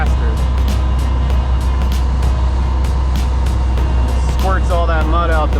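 A cement truck's engine drones loud and steady while it discharges concrete for a garage slab, with regular clanking ticks from the rotating drum and a voice briefly heard near the end.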